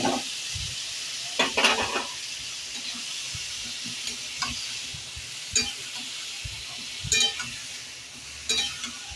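Marinated jackfruit fries in a wok with a soft steady sizzle, broken by intermittent spatula scrapes and stirring clinks, close but moderately quiet.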